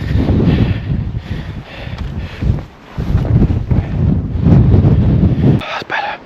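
Strong wind buffets the microphone in heavy, roaring gusts that rise and fall, with a brief lull partway through, on open peat moorland near Ladybower Reservoir in winter.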